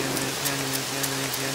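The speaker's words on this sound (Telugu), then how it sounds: "అమ్మ వర్షం" Steady rain in a comedy movie scene, falling continuously with a dense, even patter of drops and no pauses.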